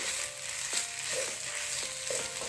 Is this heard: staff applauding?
no